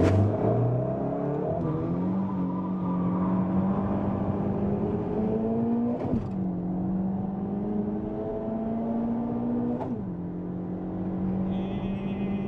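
Two cars, a VAZ 2114 and a Lada Kalina Sport with 135 horsepower each, launching from a race start: loud engine pulls through rising revs, with two distinct gear shifts and the whine climbing again after each, no talk.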